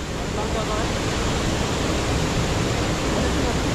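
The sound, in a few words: Devle waterfall at Devarukh, rushing water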